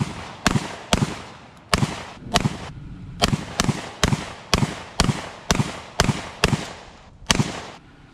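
GForce BullPup shotgun fed from a 10-round magazine, fired outdoors in a steady string of about a dozen loud, sharp booms roughly half a second to a second apart, each with a short decay, and no talking.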